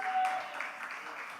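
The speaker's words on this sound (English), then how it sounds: "You can give yourselves a round of applause real quick." Audience applause at a community youth huddle meeting, a steady wash of hand clapping that fades slightly after a louder start, with no speech over it.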